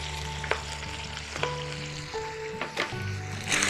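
Shredded cabbage sizzles and fries in bacon fat in a pan, a steady close crackle with occasional stirring scrapes and soft squishes as it is moved around.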